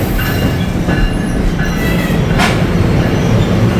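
A commuter train passes through Summit, New Jersey, a loud steady rumble of wheels and cars with some rail squeal, close by and continuous with no talk.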